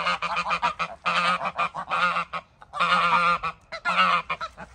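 Geese honk loudly and close by in repeated noisy bursts with short pauses between them, and no talking is heard.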